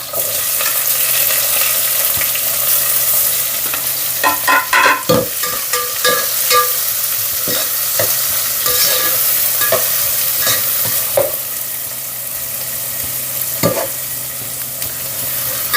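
Cumin, garlic, chili, curry leaves and onion fry for a quick khichdi, with a loud, continuous sizzle broken by repeated scraping and clinking of a spoon stirring in the pan.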